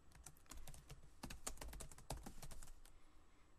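Someone types a report name on a computer keyboard: a quick, quiet run of close key clicks, irregular and continuous for a few seconds, with no voices.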